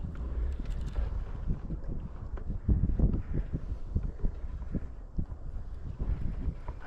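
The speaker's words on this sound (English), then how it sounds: "it's a little windy" Steady low wind rumble buffets the microphone while fishing on the water, with soft knocking and water-like thumps mixed in throughout.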